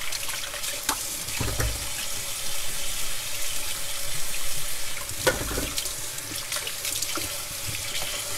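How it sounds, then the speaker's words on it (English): Water from a kitchen sink tap runs steadily while a knife is rinsed under it, a continuous close splashing hiss with a few brief louder surges and no talking. "I'm gonna wash my knife off here."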